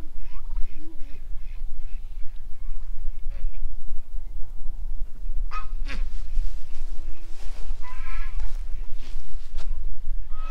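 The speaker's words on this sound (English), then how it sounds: "Look at the goat." A goat bleats a few times amid windy outdoor noise, with nearby honking or clucking fowl calls scattered through and occasional voices.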